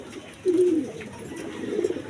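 A racing pigeon just back from a 109 km training flight coos once, a clear low throaty call heard close and alone over quiet background.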